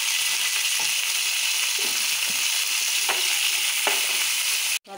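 Mustard seeds and dried chillies sputter in hot ghee, giving a steady close sizzle with a few sharp popping bursts, before the sound cuts off abruptly at the end.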